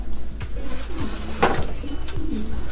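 Pigeons coo in low, repeated pulses close by, a soft rhythmic burbling with a brief brighter flutter midway.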